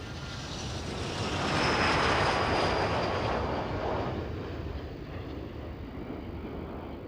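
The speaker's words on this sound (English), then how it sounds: "All 7 aircraft taking off together" Seven display-team jet aircraft taking off together at the RIAT air show at RAF Fairford, a broad distant jet roar that swells to a peak and then slowly fades as they climb away.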